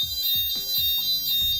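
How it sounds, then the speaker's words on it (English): Fire alarm sounders inside a flat sound a repeating electronic pattern of short pulses roughly every fifth of a second, over a steady high tone, loud and close. "The beacons or sounders now sound within the flat."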